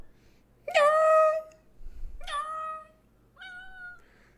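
A man imitates a cat's meow with his voice, giving three separate calls: a loud, drawn-out first meow, a slightly softer second and a shorter, quieter third.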